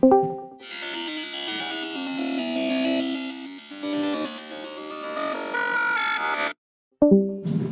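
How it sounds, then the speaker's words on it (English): A phone call attempt in the Deltarune video game plays as a sustained, chiming electronic melody with layered ringing tones, cutting off abruptly before a short final note resumes. "And then I try to answer my phone."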